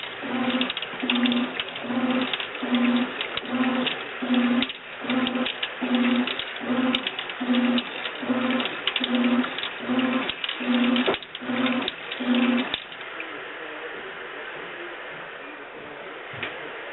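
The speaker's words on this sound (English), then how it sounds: "This is called a washing machine." A washing machine runs with a steady, rhythmic mechanical thump and squeak repeating roughly every second, then settles into a smoother continuous whir near the end.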